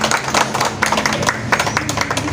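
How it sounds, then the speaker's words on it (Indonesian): Close, uneven clapping from a small community gathering, individual sharp claps overlapping in a loose rhythm for a couple of seconds. "Terima kasih. Ya, tepuk tangan."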